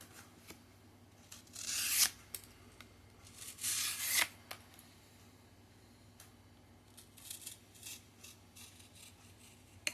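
A freshly stropped Buck knife slicing through a playing card: two short, bright scraping cuts close by, then fainter rustles and small ticks in a quiet room.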